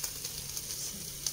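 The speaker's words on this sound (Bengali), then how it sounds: "কলা ভাজা হচ্ছে আমাদের" Bananas fry in a pan with a soft, steady sizzle, quiet and close for a brief moment, with faint crackles and no talking.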